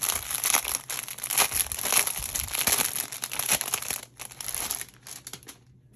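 Crinkly plastic packaging bag being opened and handled close up during a face mask unboxing, continuous rustling and crackling bursts for several seconds, tapering off at the end.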